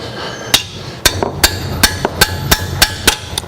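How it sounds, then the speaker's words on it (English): Hammer tapping on a wrench to loosen brake caliper bolts on a Toyota Corolla with a 7AFE engine, about ten sharp metallic taps at a fairly even rhythm, close and clear. "I just tap gently on the wrench to"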